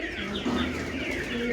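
Chickens cluck and murmur inside a coop shared with ducks, a steady stream of close, overlapping soft clucks and low coos at moderate loudness.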